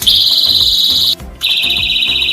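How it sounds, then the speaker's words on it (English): A personal safety alarm blares a loud, piercing continuous shriek, broken by one brief gap before it resumes at a slightly lower pitch. "bystanders who hear your alarm can also see where it's coming from"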